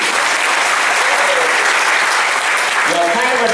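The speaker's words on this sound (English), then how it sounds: "That ought to be a good time to give Him a hand." Sustained applause from a church congregation fills the space, steady and dense throughout, with a voice briefly rising over it near the end.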